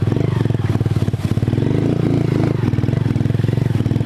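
A motorcycle rides slowly through tall grass and brush on a mountainside in Brazil, its engine thumping steadily and loud up close, with scraping and clattering from vegetation against the bike throughout.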